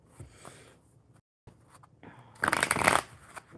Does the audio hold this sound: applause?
no